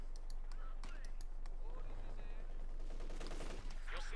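MG-34 and Vickers machine guns firing in a Company of Heroes 2 battle, bursts of rapid gunfire mixed with other combat noise, with a commentator talking over it.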